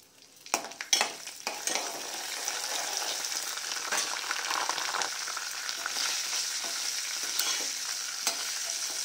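Dried usthi (sundakkai) berries dropped into hot sesame oil, a few sharp clattering hits at the start followed by a steady bright sizzle with occasional stirring knocks, close and without talk.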